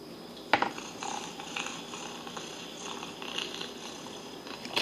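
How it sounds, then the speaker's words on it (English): Cat purring played from a children's noisy sound book of night sounds, a soft continuous rumbling purr, faint and close, with a click at the start and no talking. "cats purring."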